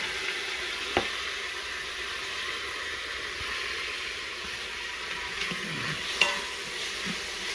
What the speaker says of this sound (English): I'll just let the garlic and onions cook up until the onions are good and cooked up